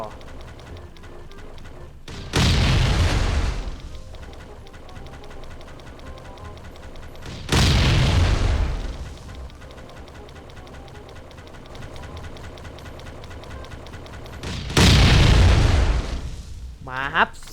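Three heavy, booming oil bomb explosions in the survival game Last Island of Survival, spaced several seconds apart, loud and close, with quieter game sounds and some talking in between.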